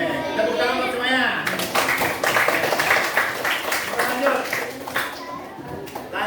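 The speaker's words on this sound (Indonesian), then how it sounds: "tepuk tangan buat semuanya" Classroom clapping for everyone breaks out after a short lesson, a ragged burst of many hands that swells and thins, mixed with children's voices talking over it.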